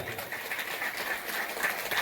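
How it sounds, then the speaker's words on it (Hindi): Sustained applause from a seated audience at an outdoor district-level Tulsi Jayanti ceremony stage in a village, a steady wash of clapping with a few bird calls mixed in. "सभी के लिए जोरदार तालियां"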